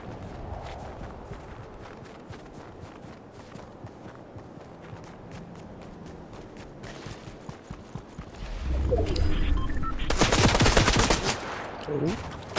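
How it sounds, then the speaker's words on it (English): In Fortnite, rapid gunfire bursts out loud near the end, after a stretch of quieter in-game footsteps and movement. "Are they shooting you?"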